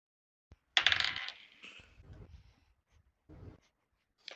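Dice tumble and clatter across a table for a stealth check in a tabletop role-playing game, a quick burst of rattling with a second short roll after a pause, fairly close and alone.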